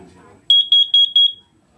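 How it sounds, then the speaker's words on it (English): A smoke detector test sounds off: one beep, then a run of four rapid high electronic beeps close by, with faint murmuring before it starts. "You'll get a beep, 4 beeps, and a beep."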